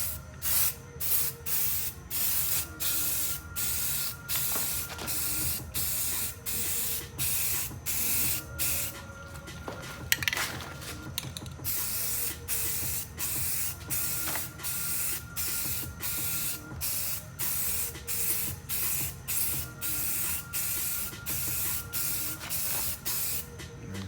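Aerosol spray paint hisses onto a Nissan wheel rim in repeated short bursts with brief pauses between them, each close and fairly loud, with no talking.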